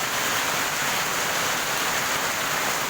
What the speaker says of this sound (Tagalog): Napakalakas ng ulan. Ito, walang hinto ang ulan.